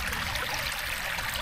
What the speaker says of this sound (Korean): 시냇물이 졸졸졸졸 흐르고 있습니다.